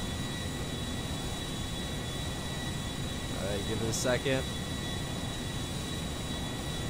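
A jet plane in GTA 5 climbs high with a constant, distant engine roar under a man's speech. A short whoosh rises near the end.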